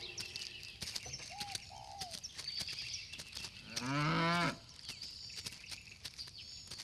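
A cow gives one loud, drawn-out moo in the middle, set against busy birdsong, chirps and clicking sounds that run throughout.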